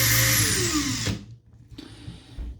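A Makita cordless screwdriver spins at top speed with a loud, high-pitched motor whine that winds down and stops, followed by a brief second short burst of the motor.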